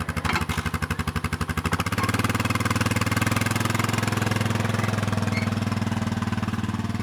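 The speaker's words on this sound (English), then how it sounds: "Okay, Linda gets the four-wheeler going." A four-wheeler ATV starts with a quick, rough chugging burst, then settles into a steady, loud, close running idle with a throbbing low rumble.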